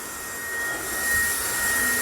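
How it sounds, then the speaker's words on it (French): Steady whirring drone of the small vacuum in a model railway track-cleaning wagon from Lux-Modellbau, running continuously and fairly close, with a faint high whine on top and no talk. "Bon bah aspirateur, c'est vrai qu'on l'entend"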